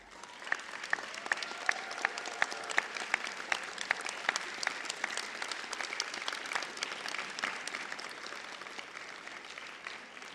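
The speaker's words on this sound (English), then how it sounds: "thank each and every one of them with a big round of applause" Sustained applause from a graduation audience at a Brisbane business and hospitality ceremony, a dense wash of many hands clapping steadily for about ten seconds at moderate distance, with some claps standing out sharply.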